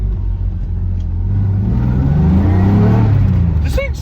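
A barn-find BMW E36 smelling of fuel after seven years parked pulls hard under acceleration, its engine revving in a loud, rising low rumble close to the microphone, with a brief higher whine near the end.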